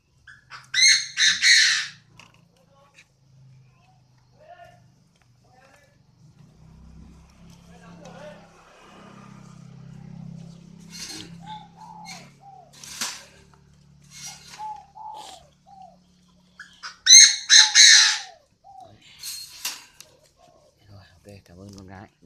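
Young spotted doves being hand-fed by syringe give sharp, harsh squawking bursts and soft, low cooing calls. Quiet stretches and a person talking nearby come in between the calls.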